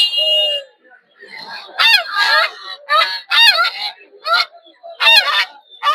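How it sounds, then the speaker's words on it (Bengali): Domestic and royal ducks for sale at a rural weekly market in winter give a series of loud, nasal honking quacks in uneven bursts close by, with a brief tonal squeak at the start. "দেশি হাঁস রাজা হাঁস এখন হাঁসের চাহিদা প্রচুর যেহেতু শীতকাল"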